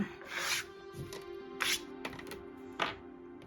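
Die-cut paper pieces scraped off a cardstock sheet, a few short dry rasping scrapes and rubs in uneven bursts, close and fairly quiet with no talking.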